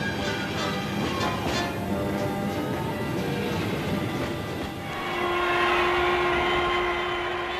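Trains at Paris Gare de l'Est station, a continuous rumble of rolling wagons with a long horn or whistle tone rising near the end, heard alone without talk.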